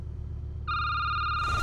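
In a security booth video game, a telephone starts ringing partway through with a steady, bright electronic ring over a low background hum. It continues to the end, growing slightly fuller at the close.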